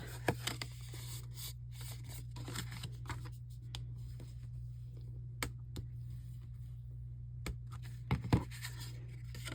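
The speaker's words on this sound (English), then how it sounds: "the next score line is going to be a valley fold" A scoring tool is drawn along card paper to crease a valley fold line: faint scratching and a few sharp ticks over a steady low hum, with a small cluster of louder clicks near the end.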